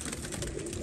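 Golden pigeons coo softly in a brief, low, steady murmur.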